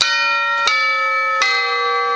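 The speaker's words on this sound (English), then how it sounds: "Tubular bell." Tubular bell voice on a Yamaha PSR 6700 arranger keyboard, struck three times at roughly even intervals, each bright metallic chime ringing on with a long sustain, clear and close with no talk.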